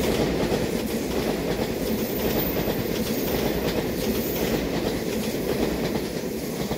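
A Taiwan Railway Taroko Express tilting train, TEMU1003+TEMU1004 on the Hualien–Taitung line, rolls past with a steady loud rumble and wheel clatter held throughout, close by, with no voices.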